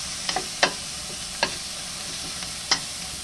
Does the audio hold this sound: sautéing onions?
yes